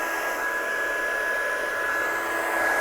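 A heat gun blows steadily while warming up for heat-setting embossing powder on a craft card, a constant close whooshing airflow with a thin high motor whine, unbroken for the whole stretch.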